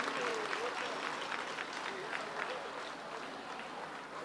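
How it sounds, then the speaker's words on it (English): An audience at a school musical theatre show claps for the chief guest, a dense, steady wash of applause from a large crowd that lasts the whole stretch and fades slightly toward the end. "A big round of applause for our chief guest, Mr. C R Hanumanth, and all our dignitaries."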